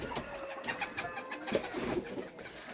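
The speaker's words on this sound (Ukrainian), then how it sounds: "вже австралорпиха наша вже й перестала бути. Квочкою, ще трошки поквокує там" An Australorp hen that is coming out of broodiness clucks in a farmyard. The clucks are soft and intermittent over faint background noise, with no voices.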